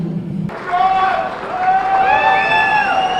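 A large crowd at an ITServe entertainment session cheers and whoops loudly, with sustained shouts and applause that rise after a brief lull and carry on at full strength throughout.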